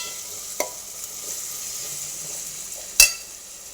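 Onions with ginger garlic paste sauté in a pan with a soft, steady sizzle, punctuated by two sharp clicks of a spoon against the pan.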